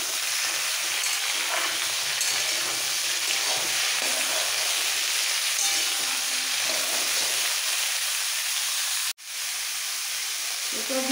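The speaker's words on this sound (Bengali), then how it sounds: "তেলের মধ্যে একটু মিক্স করে নিতে হবে সমস্ত সবজি।" Vegetables for pumpkin greens with poppy seed tossed and frying in oil, a loud continuous sizzle and hiss with faint stirring scrapes, briefly cut off near the end before resuming.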